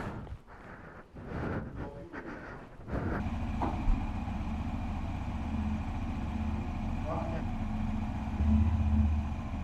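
A motorcycle engine idles steadily before setting off on a long-distance ride, a continuous low rumble that settles in after a few seconds of handling noise and stays at an even level to the end.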